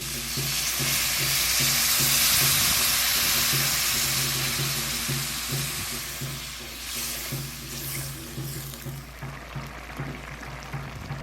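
Bitter gourd sizzles steadily in a hot pan, a continuous close frying hiss with faint stirring scrapes, fading slightly toward the end, with no talking.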